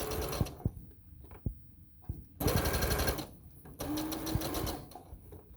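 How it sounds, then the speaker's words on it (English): A home sewing machine stitches fabric for pajama shorts, running in short bursts and longer runs of rapid, buzzing needle strokes, close and fairly loud, with no talking. "Just make sure you're always taking out your pins before you stitch and you're stopping your machine with your foot pedal."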